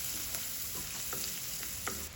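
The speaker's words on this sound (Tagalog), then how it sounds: "So we put the butter, then we're going to put garlic. Saute the garlic." Garlic sautéing in melted butter, a constant close, bright sizzle with a few soft stirring taps.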